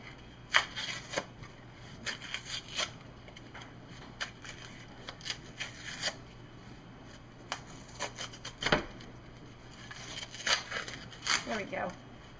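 Scissors snip through a stiff plastic-lined cardboard can in short, irregular crunching cuts, with pauses between them and a low steady hum underneath.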